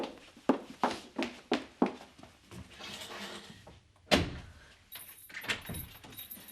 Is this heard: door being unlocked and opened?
yes